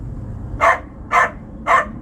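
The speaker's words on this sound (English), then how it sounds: "And Hoover went off into the yard and continued to bark incessantly, but from a safe distance." A dog in a yard barking repeatedly: three evenly spaced, moderately loud barks about half a second apart over a steady low rumble.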